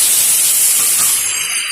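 Boiled potatoes drop into hot oil already frying whole cumin and spices, setting off a loud, steady hiss of sizzling that holds evenly, then eases slightly toward the end.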